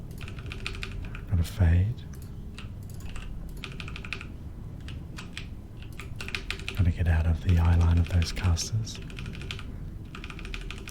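Rapid keystrokes on a computer keyboard during a World of Warcraft session as a Holy Priest healer, close and steady throughout, with soft-spoken talk over the typing.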